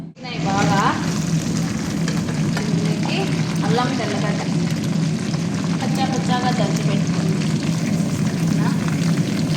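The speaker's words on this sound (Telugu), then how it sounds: "బాగా నూనె ఇంకా కొంచెం బాగా వేగనీయండి" Chicken feet fry in plenty of oil, a dense, steady sizzle and crackle close up that runs the whole time, with a person talking over it.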